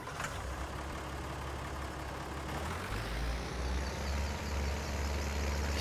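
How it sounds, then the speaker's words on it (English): A green farm tractor engine idles steadily in Farming Simulator 19, a continuous low diesel rumble that holds even and loud throughout with no talk. "We're gonna use the green tractor today."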